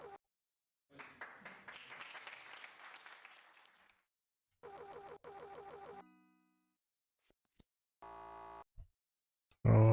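Short bursts of clapping play from sound cards in the GCompris educational memory game, a longer stretch of applause followed by a briefer burst, separated by silence and other short game sounds and tones.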